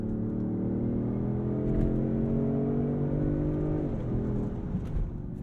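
Inline-six engine of a 2023 Range Rover Sport pulls hard under acceleration, a smooth, rising harmonic drone heard from inside the cabin, with a brief dip as the revs shift, no talking.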